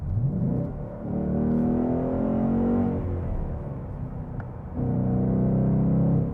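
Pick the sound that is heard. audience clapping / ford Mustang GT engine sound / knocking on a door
ford Mustang GT engine sound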